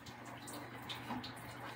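Hot water runs steadily from a tap in a 2009 Kingston, a continuous soft hiss and splash heard close by, fairly quiet, with no speech.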